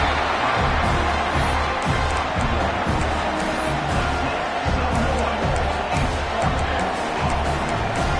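Broad, steady roar of a large stadium crowd in a college football video game, Texas A&M hosting Ole Miss, sustained throughout at a loud, even level with no distinct voices standing out.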